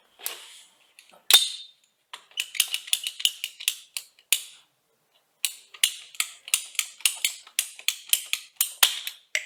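A water pipe being cut during a leak repair after the meter, heard as crisp, rapid ratcheting clicks from a pipe cutter in quick bursts with short pauses, close and dry, with no speech.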